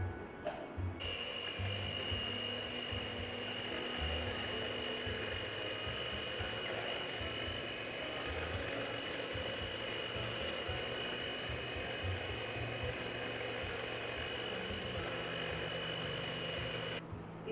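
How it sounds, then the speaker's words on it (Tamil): A kitchen blender whirs steadily while blending jaggery for Sri Lankan wattalapam, a continuous, even motor roar held for the whole stretch and cutting off at the end. "அந்த பிளெண்டரில் போட்டு அடித்தா அது எல்லாமே மெல்ட் ஆகிடும்"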